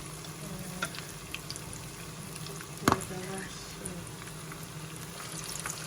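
Prawns frying in hot oil give a steady, close sizzle and crackle, with one sharp clink partway through.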